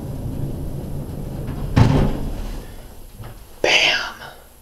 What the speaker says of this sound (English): the elevator went bump to the bottom floor